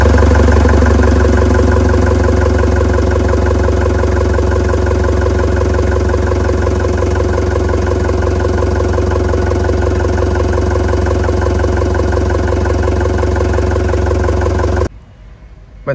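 An engine on a piece of equipment fitted with a digital hour meter runs at a steady idle, a loud, even mechanical drone with a regular pulsing rumble that cuts off abruptly just before the end.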